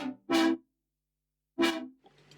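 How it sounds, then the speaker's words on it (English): Layered synth lead with a low cut and wide stereo spread, two bright, brassy stabs about a second apart, each swelling briefly then cutting off into silence, with a faint trailing texture at the end. "So the second synth lead is a layer to the first one"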